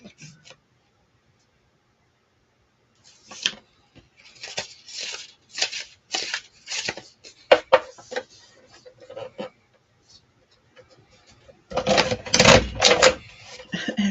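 Index cards are cut for mini journals, heard as a run of crisp, close snipping and clicking bursts in short spaced groups after a quiet start, ending in a denser flurry of cuts.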